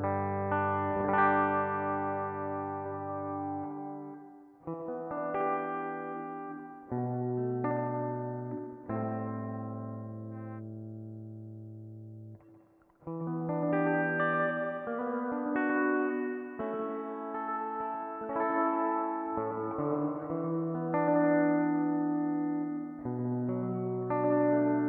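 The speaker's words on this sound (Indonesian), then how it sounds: "Secret pad sendiri adalah pedal reverb" An electric guitar plays chords and single-note phrases through a Laney Black Country Customs Secret Pad reverb pedal set to spring mode, with notes ringing out and trailing off in a wash of reverb and no talking.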